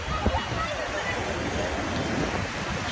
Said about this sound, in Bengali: এই যে সাগরের ঢেউ